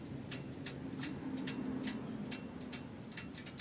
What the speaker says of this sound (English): It's cracking because it's cooling down.